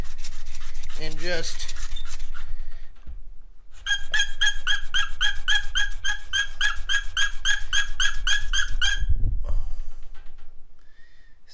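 A Cummins N14 fuel jumper line fitting is sanded by hand on a vise anvil in quick, rhythmic rasping strokes, close and fairly loud, with a brief pause before a long run of steady scrubbing.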